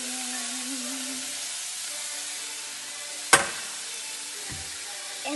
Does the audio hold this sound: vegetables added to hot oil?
yes